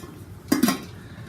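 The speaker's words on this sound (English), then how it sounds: "I'll put the lid to the large pot on the pot" A metal lid from a nesting camping cookware set is set onto a large pot, making a brief close clank with a quick double contact.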